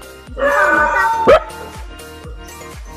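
A dog yips and whimpers several times in short, high-pitched bursts, fairly close, with a few quieter barks in between.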